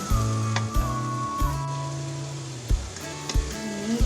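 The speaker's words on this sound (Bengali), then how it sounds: "এগুলোকে আমি একটু ভেজে নিব।" Garlic and ginger paste frying in a pan for hilsa pulao, a steady close sizzle broken by several clinks and scrapes of a utensil stirring against the pan.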